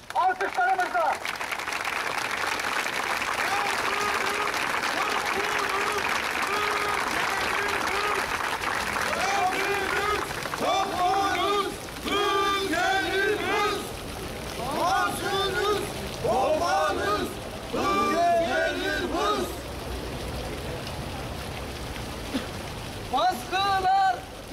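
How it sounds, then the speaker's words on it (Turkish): A crowd applauds at a protest held outdoors after an attack on the Gazi Cemevi, with dense, continuous clapping for over twenty seconds while a voice and chanting rise above it. "Gazi halkına selam yolluyoruz buradan. Alkışlarımızla."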